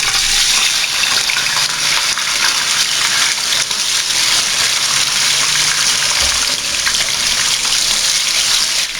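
Chicken pieces fry in a pot of oil after browned onions have been taken out, producing a loud, steady, close sizzling hiss that runs unbroken throughout.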